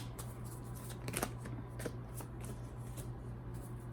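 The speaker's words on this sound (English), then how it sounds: "I feel the need to pull 3 cards." Tarot cards being shuffled by hand, a quiet, close riffling and flicking of cards with a few sharper snaps, over a low steady background hum, with no talking.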